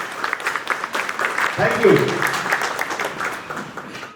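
An audience at a Lions Club eye camp event claps together in a dense patter that swells midway and fades out, with a voice speaking over it.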